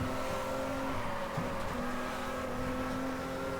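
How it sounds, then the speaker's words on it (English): A stock car drifts with a very loose rear end in Stock Car Extreme, its engine droning steadily and faintly with a thin tyre squeal weaving through, no talk. "Just really drifting the car now, really making use of that very loose rear end"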